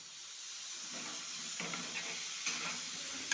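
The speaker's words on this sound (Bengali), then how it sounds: "এবার খুন্তি দিয়ে ভালো করে নাড়াচাড়া করে দিলাম।" Potatoes for aloo dum frying in a pan while a spatula stirs them, a steady close sizzle with scraping strokes of the spatula, and no voices.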